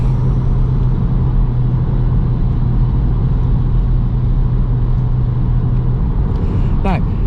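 A Renault Clio 220 Trophy hot hatch drones loudly and steadily from inside the cabin on a public road, a constant engine rumble with no clear gear changes and a brief rising whine near the end.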